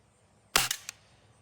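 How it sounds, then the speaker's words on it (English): A Beeman 1022 .22 caliber air rifle fires a single sharp crack, followed by a brief rattling echo, close and loud against a quiet background during grouping tests. "I think this is our, what, a third shot?"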